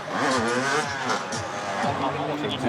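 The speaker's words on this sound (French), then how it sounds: "La moto réapparaît." A motorcycle engine roars close by in Lyon, its revs rising and falling in loud, continuous waves as the rider taunts police nearby, with voices faintly mixed in.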